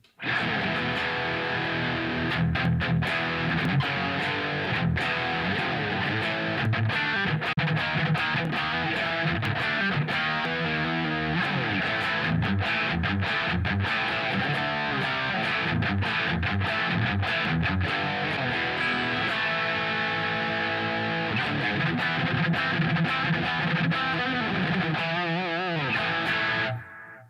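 Heavily distorted electric guitar fitted with Artec 12k and Giovanni The Power pickups plays dense, loud riffs nonstop for nearly half a minute before cutting off.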